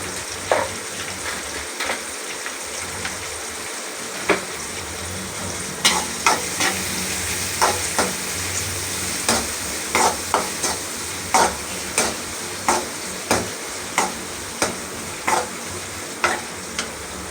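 Onions sizzle in a pan with turmeric powder for a village-style fish curry, a steady frying hiss broken by regular spoon scrapes and taps that come faster and more evenly toward the end, close up with no voices.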